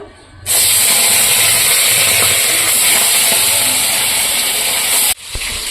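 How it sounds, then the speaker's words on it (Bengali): Tangra fish drop into hot oil in a kadai and set off a loud, steady, broadband sizzle that holds for about five seconds, then cuts off sharply. "তেল আমার গরম হয়ে গেছে এখন আমি কড়াইতে মাছগুলো ভেজে নেবো"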